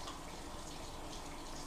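Running water rinses dirt from a Traxxas RC car air filter's foam and rubber parts, a steady close splashing stream that continues without pause throughout.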